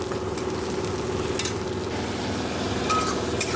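Greens (shak) frying in oil in a kadai with salt and turmeric, a steady close sizzle and crackle with occasional stirring scrapes, no voices.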